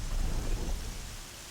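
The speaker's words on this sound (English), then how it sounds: "It's quite rainy now." Rain and thunder in the video game Horizon Zero Dawn: a deep, rumbling thunder roll over a dense hiss of steady rain, loud at first and easing slightly toward the end, with no voices.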